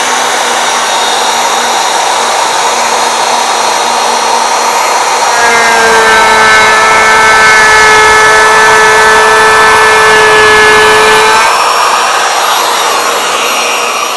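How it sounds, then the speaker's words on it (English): Bosch 1617EVS 2 1/4 horsepower router with a new 1/2 inch straight bit, a steady loud high whine that deepens and roughens as it cuts through pine, then returns to a free-running whir, with no talking. "a 2 1/4 horsepower router will go through a quarter of an inch fine"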